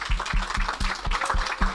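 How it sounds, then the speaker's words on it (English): Audience at a church gathering giving a round of applause, heard as a short burst of clapping over a steady low rhythmic thump, moderately loud. "Another round of applause for Bill,"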